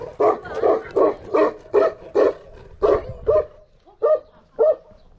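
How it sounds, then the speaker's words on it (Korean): A large dog barks repeatedly at close range, about ten deep woofs in an uneven rhythm, with short pauses between them. "아주 큰 강아지입니다. 엄청 크죠?"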